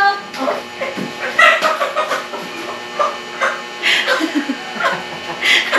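A gamecock chicken clucks in short, close bursts, mixed with a person talking nearby.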